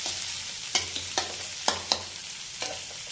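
Onions fry toward light golden brown in a pan for a potato papad curry, with a steady sizzle broken by several sharp spoon-stirring scrapes.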